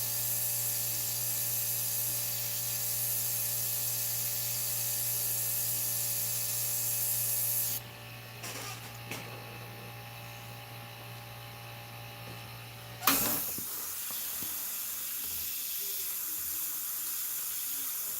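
An airbrush lays a soft, distant spray of Createx Illustration Colors onto Blair synthetic paper. It gives a steady hiss over a humming compressor for about eight seconds, then drops to quieter bursts before a sharp click and near silence.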